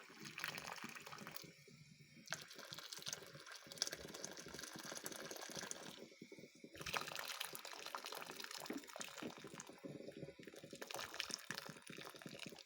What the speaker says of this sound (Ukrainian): Накрили кришечками доливаємо у нас ще по плечки водичку.